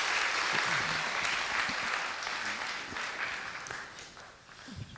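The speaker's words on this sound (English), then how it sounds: "please give a round of applause." Applause from students at an upper school assembly, a thick, continuous round of clapping that slowly thins toward the end, with faint voices murmuring underneath.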